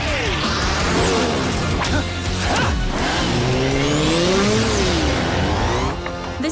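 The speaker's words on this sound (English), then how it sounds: "Dino cycle, rev up!" A Dino Cycle motorcycle in a kids' action show revs loudly, its engine whine rising and falling in sweeping pitch bends alongside tire squeal, continuous and close.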